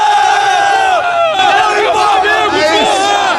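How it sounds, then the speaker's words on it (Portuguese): Flamengo football fans gathered in Lima before the Copa Libertadores final chant loudly in unison, a dense crowd roar of sung voices rising and falling continuously. "A torcida do Flamengo já está em Lima, já vai fazendo festa"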